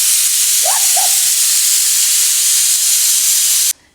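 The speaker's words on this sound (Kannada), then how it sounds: "ಇತ್ತೆ 2 ಸೀಟಿ ಬತ್ತಂಡು" A kitchen pressure cooker vents steam in a loud, continuous close hiss, with a brief squealing whistle near the start, until the sound cuts off abruptly at the end.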